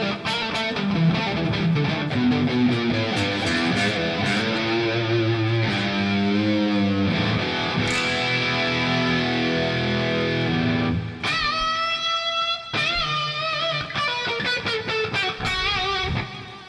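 Electric guitar lead run through an amp simulator plugin, a sustained distorted melodic line with bends and held notes, then brighter picked phrases after a brief break, played alone without talking.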